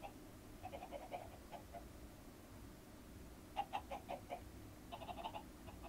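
Chickens in the Minecraft video game give faint, scattered clucks in short bursts against a quiet background, with no voices.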